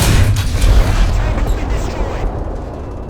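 Explosion in the War Thunder tank and aircraft combat game: a heavy, close boom with a deep rumbling blast that decays over about two seconds into fading debris noise.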